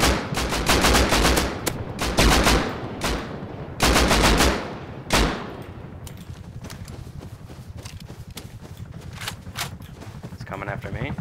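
Video game gunfire: several loud, rapid bursts of automatic shooting crowd the first half, then give way to quieter, sustained scattered shots.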